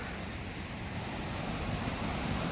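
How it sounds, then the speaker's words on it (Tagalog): Steady wind blows hard across the microphone at a waterfall lookout, a constant roaring rush with no voices. "Mahangin dito ah."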